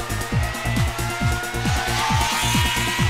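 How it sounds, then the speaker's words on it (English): Porsche race cars lapping Rockingham circuit on the last lap of a championship race, engines revving hard in a rapid repeating pattern of rises and drops as they shift gears, loud and continuous. "Clark wants the lead back and he's giving his teammate Taylor a very hard time as the pair wind their way around the circuit on the last lap."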